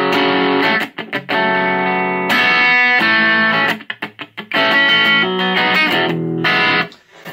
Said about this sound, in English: So it's just edging into distortion instead.